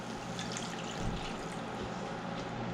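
A cup of water poured into cooking masala in a pan to make gravy for dhaba-style matar paneer gives a steady trickling, splashing pour with a soft low bump midway.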